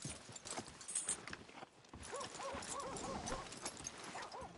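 Horse hooves clip-clopping and soft snorts from a newly acquired horse in Red Dead Redemption 2, a steady run of close hoof falls mixed with game ambience and a few whimpering animal cries.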